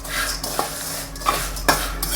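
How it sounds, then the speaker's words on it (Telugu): Flattened rice (poha) mixture being stirred in a pan off the heat, with a spoon scraping and clinking against the metal in a few scattered strokes over a soft background hiss. "ఇప్పుడు బాగా కలిపేసుకోవాలి."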